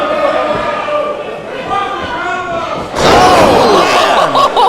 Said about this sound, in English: Just slams him right down.